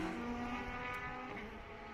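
Race car at the SCCA National Championship Runoffs braking hard downhill into a tight corner, a steady dense engine and tire roar held close for two seconds with no voices.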